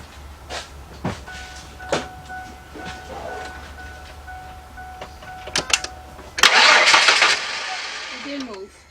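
A 1998 Ford F150 pickup with the 4.2 engine and multiple misfires cranks with scattered clicks and clunks, then catches near the end in a loud, rough burst that fades quickly.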